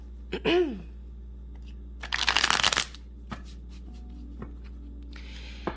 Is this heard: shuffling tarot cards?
yes